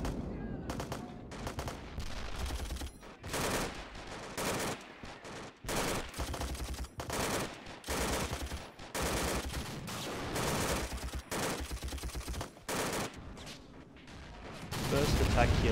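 Heavy gunfire fills a war short film's battle scene, with repeated loud bursts and rapid volleys in irregular clusters, separated by brief lulls, with some talking.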